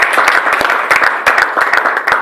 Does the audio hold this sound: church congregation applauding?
yes